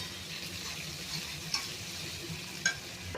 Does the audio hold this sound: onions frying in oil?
yes